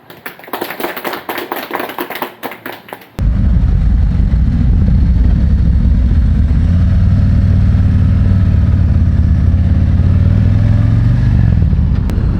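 A Harley-Davidson motorcycle setting off on a ride. Rapid tapping clatter gives way to a loud, steady low engine drone with wind roar, close up and continuous.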